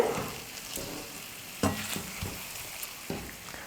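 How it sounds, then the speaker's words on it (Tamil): Chicken leg fry with pepper powder stirred in oil, a soft low sizzle broken by several spoon scrapes and clinks against the pan at irregular intervals, fairly quiet and without talk. "மிளகுத்தூள் சேர்த்துட்டு சும்மா லைட்டாக திருப்பி கொடுத்தா போதும்."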